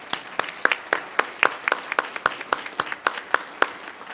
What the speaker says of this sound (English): give a round of applause to our representatives here first